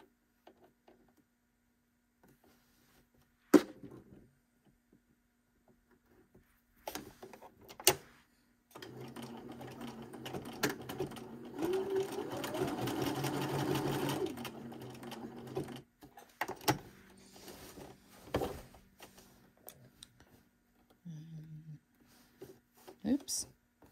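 Domestic sewing machine stitching a woven buttonhole zigzag, heard as a steady mechanical whir for several seconds mid-clip, framed by scattered clicks and handling knocks.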